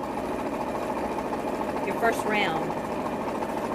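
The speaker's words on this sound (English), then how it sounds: "You just sew it the rest all the way through" Sewing machine stitching strips of quilt fabric for a jelly roll race quilt, a steady whirring hum that runs the whole time under a speaking voice.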